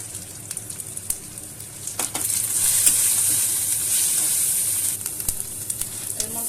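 A spoon stirs ground chili, cumin and coriander frying in a pan for masala bhindi. A soft sizzle carries on the whole time, broken by scraping strokes and occasional clinks against the pan, and it swells briefly in the middle.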